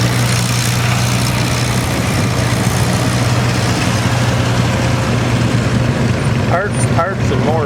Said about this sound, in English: You'll see the runway is a continuous flow of tractors.